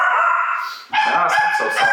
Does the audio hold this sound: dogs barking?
yes